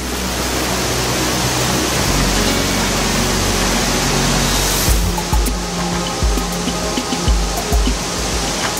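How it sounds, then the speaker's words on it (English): A 10-meter-high waterfall at a canyon entrance in the Hohe Tauern, a continuous loud broadband rushing roar, with some low thumps and slight changes in tone in the second half. "At the entrance to the canyon is a particularly popular sight, a 10-meter-high waterfall."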